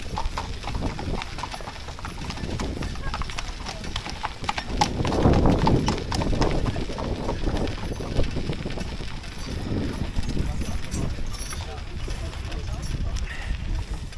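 Horses' hooves clip-clop steadily on pavement nearby, several horses pulling passenger wagons past, while people talk in the background.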